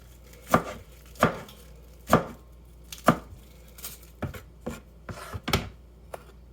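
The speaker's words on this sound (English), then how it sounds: "Dicing these onions." A knife dicing onions on a cutting board for venison stew, a series of sharp, evenly spaced chops, then a quicker run of lighter cuts, close and clear with no talking.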